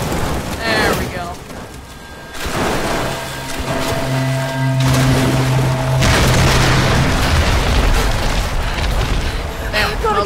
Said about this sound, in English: that was actually a pretty good explosion for a